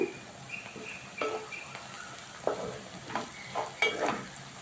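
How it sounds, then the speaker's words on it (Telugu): Bitter gourd frying in oil with turmeric, stirred by a spoon that scrapes and taps the pan in short irregular strokes over a low, steady sizzle, heard up close without speech. "బాగా మిక్స్ చేసుకొని కొంచెం సేపు వేగనిద్దామండి"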